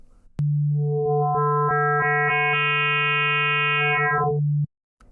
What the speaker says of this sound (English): you can do some wave folding with this. So let's hear how this sounds with a sine wave.